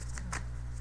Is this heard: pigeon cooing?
no